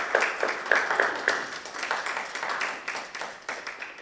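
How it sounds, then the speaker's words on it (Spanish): A small audience at a church Bible-study gathering claps, with distinct individual hand claps audible within a modest, uneven round of applause that gradually thins out. "El aplauso que te van a dar ahora es muy grande porque te lo mereces."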